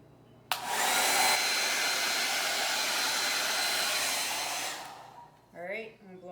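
A hair dryer blows on an acrylic Dutch pour across a larger canvas, starting abruptly with a steady loud whoosh that runs several seconds, then fades before a brief voice is heard.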